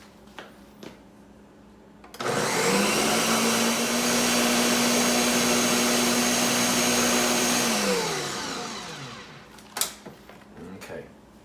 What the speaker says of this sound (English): I'm going to pop the blender lid on, lock it down. I'm going to blend this sweet goodness.